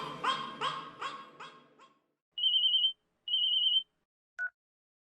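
Two long, bright electronic telephone rings sound up close, with a short chirp after them, following several barks from a dog.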